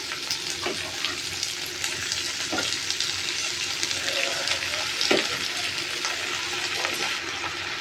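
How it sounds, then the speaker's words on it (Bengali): Onion, garlic, chili and panch phoron frying in oil for a fish curry, a steady close sizzle running throughout with occasional stirring scrapes, no voices. "পেঁয়াজ রসুন আর লঙ্কা, আর তারপর একটু পাঁচফোড়ন দিয়ে ভালো করে ভেজে নেব"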